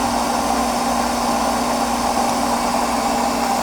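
A DC electric motor runs on 15 amps during an alternator demonstration, giving a steady, continuous hum with a strong constant tone and even vibration throughout, loud and unbroken, with no talking.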